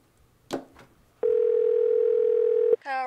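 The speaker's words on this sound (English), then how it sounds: "It's hard not to pick up the phone when it's ringing." A telephone gives a single long steady electronic tone before the voicemail picks up, loud and close, after a couple of brief knocks, with a short warbling beep at the end; no one talks over the tone.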